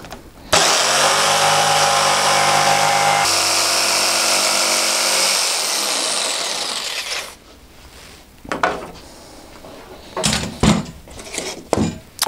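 A jigsaw cutting a strip of plywood, a loud steady buzzing roar for about seven seconds that then winds down, followed by scattered knocks and handling sounds of the wood.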